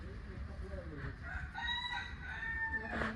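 Household chickens cluck and shuffle over a steady low farmyard bed, and a rooster crows clearly through the middle of the stretch before fading out near the end.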